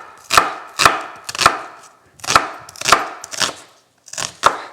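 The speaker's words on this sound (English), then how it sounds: "now we're going to slice up 2 red onions" A knife chopping down through red onions on a cutting board, seven crisp, loud, close strokes in uneven pairs and singles with brief quiet gaps.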